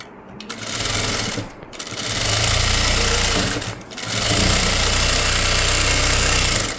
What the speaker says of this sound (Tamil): இது மேலே நம்ம வந்து ஒரு படிமான தையல் போடணும்.